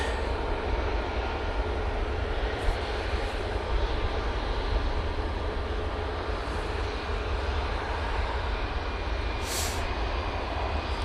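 Etihad jet airliner at Manchester Airport, a continuous moderate engine rumble and rushing roar held steady throughout, heard on its own without talk.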